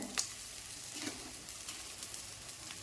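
Steady sizzling and crackling of cinnamon, cloves and cardamom frying in hot oil for tomato curry, close and continuous, with a few brief sharper pops.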